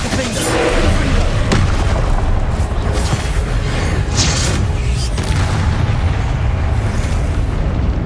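Spell blasts in Hogwarts Legacy, a fantasy video game, crack and boom loudly amid dense, continuous combat noise, with sharp bursts and heavy low rumbles following one another.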